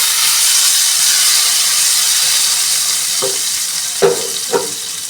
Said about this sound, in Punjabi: ਇਹ ਤੜਕਾ ਹੁਣ ਆਪਾਂ ਕੜੀ ਤੇ ਪਾਵਾਂਗੇ